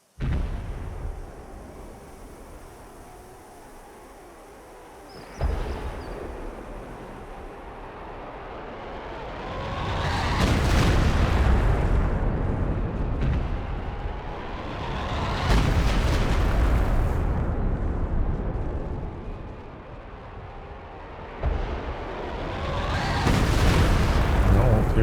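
An artillery HE barrage in Company of Heroes 2 lands as a series of heavy booming explosions, each swelling into a long rumbling roar, several big blasts in a row at close range, with game noise in the gaps.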